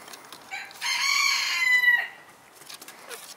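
A hen gives one loud, drawn-out squawking call lasting about a second, with quieter chicken sounds before and after and no talking.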